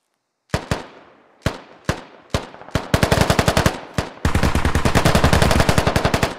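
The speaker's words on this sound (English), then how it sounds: "Engaging at range, and a British platoon opens up in return." Gunfire in the Squad video game: a few single rifle shots ring out with echoing tails, then bursts quicken into sustained rapid automatic fire from a British platoon and a BTR, loud and close, with no talking.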